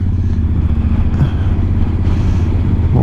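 A motorcycle rides steadily past the Dorotea border crossing near Villa Dorotea in Chilean Patagonia during a snowstorm, its engine a continuous, close, loud drone with a slight rise near the end.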